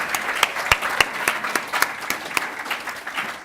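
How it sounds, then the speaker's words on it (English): Guests at a presidential inauguration dinner applaud as people return to their seats, a steady crowd clapping with a few distinct nearby claps standing out in a loose rhythm, fading slightly at the end. "Let's give them the round of applause as they go to their seats."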